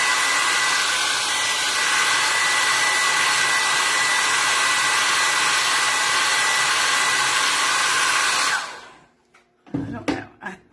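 A hair dryer blows steadily and loudly to dry paint on mortar made with desert sand on a Santa-in-a-chimney model, running for about eight seconds before it cuts off, followed by a few faint handling knocks.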